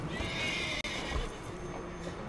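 A horse neighs and whinnies in the video game Red Dead Redemption 2, with hoof clip-clops and dense in-game ambience running continuously under it for a couple of seconds.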